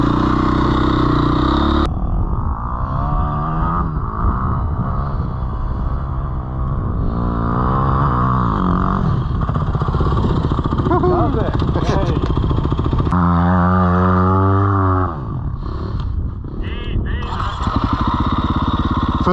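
A dirt bike engine revs loudly and continuously while riding in sand dunes at Beachport, its pitch rising and falling with throttle changes, a brief drop near the middle, and close to the microphone.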